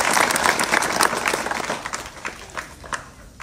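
An audience claps loudly and steadily in a dense, continuous burst of applause at a public talk, fading somewhat toward the end.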